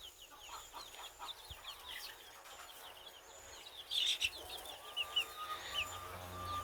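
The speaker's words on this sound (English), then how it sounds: "that's a hen. Gorgeous birds. Everybody taking baths and scratching around for bugs." A flock of hens, including Turken crosses, clucks and chirps in a continuous chatter while scratching for bugs and dust bathing outdoors, with soft rustling beneath and a few louder close clucks partway through.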